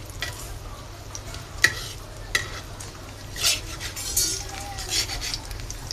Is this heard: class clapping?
no